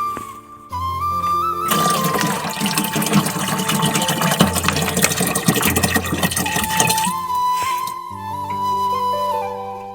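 Water pouring steadily into an empty plastic water drum, a dense rushing splash that swells loud and continuous for several seconds, then tapers off, with faint background hum before and after.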